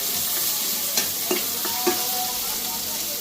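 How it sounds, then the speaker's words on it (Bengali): Chopped onions and green chilies fry in a pan, a continuous sizzle with a few soft stirring clicks and scrapes, close and steady with no talking. "এখন এটা ভাজা ভাজা করে নিব।"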